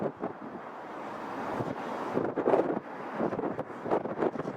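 Gusty wind buffets the microphone outdoors at an airport vantage point, rumbling and uneven in loudness throughout, with no speech.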